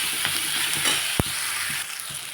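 Tomatoes cooking in a pan for a bitter gourd (kantola) curry, with a steady soft sizzle and a single sharp clack of a utensil against the pan midway.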